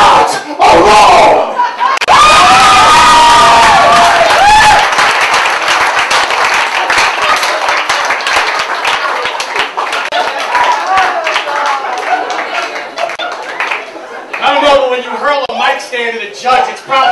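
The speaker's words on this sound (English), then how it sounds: "Clap it up one more time for Mike." A poetry slam crowd in New York City erupts in loud applause, cheering and whoops that stay strong throughout, with shouted voices rising above the sustained clapping.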